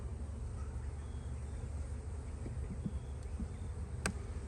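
Honeybees buzz steadily from a packed, open hive, a low continuous hum close by with no talking over it.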